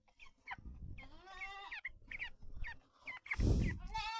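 Broiler poultry chickens kept at home, eating near a running fan, give a series of intermittent clucks and drawn-out calls, with a louder burst near the end.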